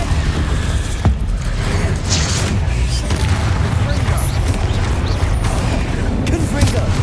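Incendio fire spell cast in Hogwarts Legacy, a dense whooshing roar of flame with a sharp burst near the start, loud and continuous, with a voice calling out spell names over it.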